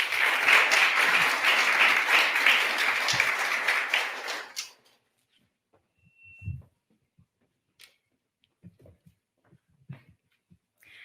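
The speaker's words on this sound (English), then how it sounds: "Big round of applause for your outgoing Connecticut Kid Governor" Dense, steady applause from an inauguration ceremony audience for the outgoing Connecticut Kid Governor, lasting about four seconds before cutting off abruptly into near silence with a few faint knocks and movements.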